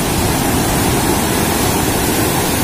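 Large ocean waves crash and roar continuously along a rocky boulder-lined shore at Padang Galak beach in east Bali, a dense, steady surf wash that stays loud and close throughout.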